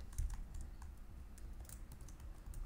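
Computer keyboard typing while programming code, quick light clicks in short irregular bursts, close and fairly quiet.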